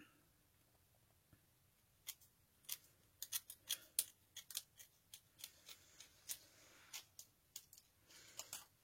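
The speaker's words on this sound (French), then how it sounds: "D'ailleurs, je vais pouvoir couper là." Scissors snip through paper for a handmade scrapbooking card, a series of crisp, close, quiet cuts that start sparse and then come in a fairly steady rhythm, with no talk over them.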